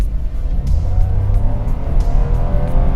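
A Toyota Wigo TRD S with a four-speed automatic accelerates from 20 to 60, a steady low engine drone and road rumble heard from inside the car, fairly loud with no talking.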